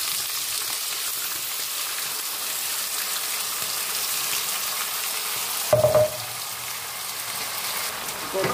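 Onion fries with Thai sauce in a pan, a steady loud sizzle throughout that surges briefly with a stirring clatter partway through before settling back.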